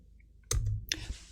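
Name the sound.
computer mouse click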